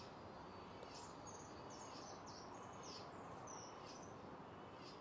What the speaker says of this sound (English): As we listen to the song of the cicadas,